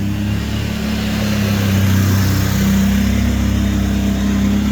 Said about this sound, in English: I hear Dawson's wheeler out there